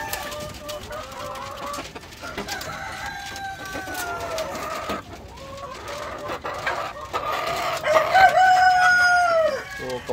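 Chickens cluck and squawk repeatedly at close range, with a rooster-like crow rising near the end amid busy farmyard background noise.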